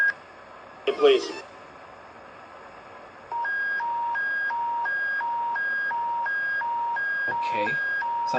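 Alternating two-tone electronic beeping of an Alberta emergency public warning alert, steady and loud after a brief opening voice, repeating in a regular rhythm for several seconds.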